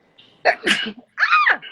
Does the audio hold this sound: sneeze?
yes